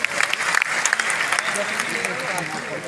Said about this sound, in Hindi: एक बार सर के लिए जोरदार तालियां।